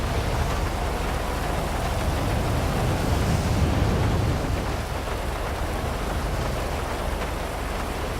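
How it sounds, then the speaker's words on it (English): Heavy, steady rain pours in GTA V with the LSPDFR mod, a loud continuous hiss with low thunder rumbling beneath it throughout. "You see the puddles starting to form because of how heavy the rain is. Then, of course, we got the thunder and lightning."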